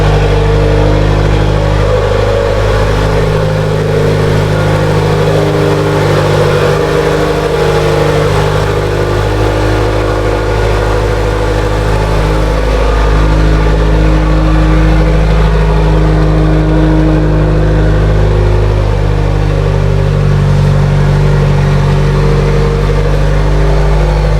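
A turbocharged Mitsubishi Lancer Evo X fitted with an ETS turbo kit runs loud and close, its engine droning with strong low harmonics, rising and falling through revs over a steady idle-like rumble, no voices.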